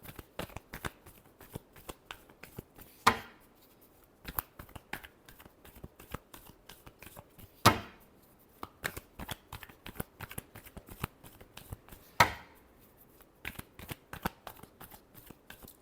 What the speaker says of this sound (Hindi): चलिए देखते हैं लास्ट शफल।